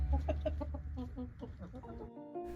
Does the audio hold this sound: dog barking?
no